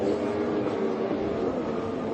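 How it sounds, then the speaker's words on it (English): Train passing by a motocross track, a continuous loud low rumble of rolling rail cars at steady level throughout, with no talking. "Don't be on the wrong side of the pits when the train comes."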